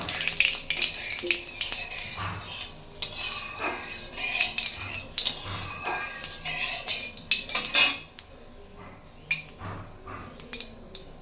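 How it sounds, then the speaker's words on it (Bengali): Sugar melting in a pot is stirred with a metal utensil, giving repeated scraping clinks and knocks against the pot over a light frying sizzle. "অল্প একটু দিয়ে ভালো করে নাড়াচাড়া দিয়ে নেবো, চিনিটা যাতে গলে যায়"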